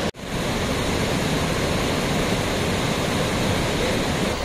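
Cold, clear mountain water near Kalimath Temple in Uttarakhand rushes past in a steady, loud, close roar, with no voices over it.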